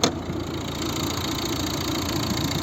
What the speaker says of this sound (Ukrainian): зараз подивимось, як працює наш моторчик